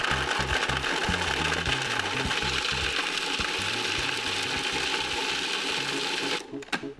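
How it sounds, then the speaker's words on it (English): A food processor grates Parmesan cheese with a loud, rapid, chattering whir that runs steadily before cutting off abruptly at the end. "This is really fast Parmesan cheese. Right into the food processor."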